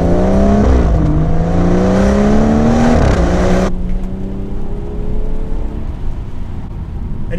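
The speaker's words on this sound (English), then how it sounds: "And the M Performance exhaust in it as well just makes it sound next level." A 2017 BMW 340i fitted with an M Performance exhaust revs hard through rising gear pulls, a loud, rasping engine note that climbs, dips at a shift, then cuts off abruptly into a lower settling drone.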